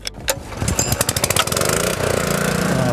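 A generator engine cranks in a quick run of rhythmic pulses, then catches and settles into a loud, steady running roar close by.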